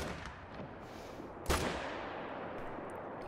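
A single rifle shot, fired long-range at a whitetail deer about 350 meters away, gives a sharp, loud crack midway through, then a rolling echo that fades into steady outdoor background noise.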